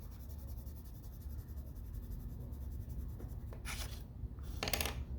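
Graphite pencil shading lightly across paper to add color, a soft continuous scratchy rub with a couple of brief brisker strokes near the end, close and quiet.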